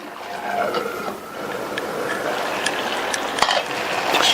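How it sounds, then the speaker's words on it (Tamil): Cucumber and chana dal cooking in a pot are stirred with a spoon, giving soft scraping and a few light metallic clinks over a steady low bubbling background, close and moderately loud. "காய் வெந்துட்டு இருக்கும்போது ஓப்பன் பண்ணி பார்த்து இந்த மாதிரி கிண்டி விட்டுக்கங்க"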